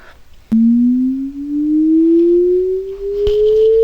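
A pure synthesized sine tone generated in Haskell code starts abruptly and glides slowly upward in pitch, loud and clean, with no voices.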